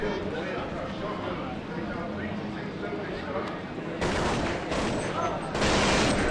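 Rapid gunfire bursts from a competitive esports shooter match, crackling volleys that grow louder toward the end, layered under excited commentator talk.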